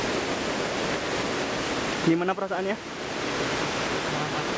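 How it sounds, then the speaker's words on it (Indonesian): Steady rushing water roars continuously at Curug Pengantin waterfall in Baturraden, with a brief spoken question heard over it partway through. "Jalur dipenuhi oleh air, hingga suara air terjun terdengar."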